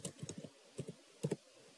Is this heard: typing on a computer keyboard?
yes